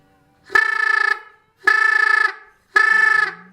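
A turkey mouth call blown wrong gives three flat, buzzy blasts like a party horn, each about half a second, loud and close with gaps between.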